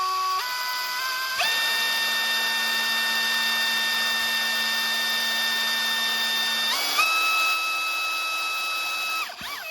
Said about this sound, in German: jetzt zentriere ich das so einigermaßen in die Mitte an hier und wir bohren dann einfach mittig da ein schönes Loch rein